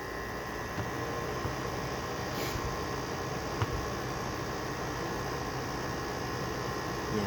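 Small Haier 5,000 BTU window air conditioner running, a steady broadband blowing hiss with a faint hum underneath, constant and close with no talking.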